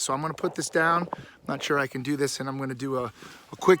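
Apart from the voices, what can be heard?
None of the usual background noises is heard.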